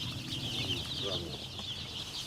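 Newly hatched chicks and chickens peep and cluck steadily indoors under a heat lamp, a constant busy chirping bed with no speech over it.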